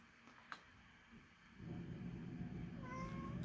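Pet cat meowing near the end of a short stretch of quiet room sound, a couple of faint, drawn-out tonal cries with no talk.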